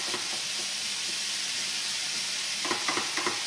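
Ground turkey frying in a pan, a steady bright sizzle with a few soft stirring scrapes near the end, close and alone.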